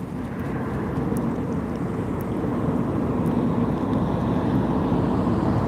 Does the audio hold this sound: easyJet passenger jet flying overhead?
yes